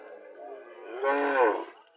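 A medium-sized dairy cow lows once, a soft drawn-out moo that swells and then fades, heard fairly clearly in a quiet setting.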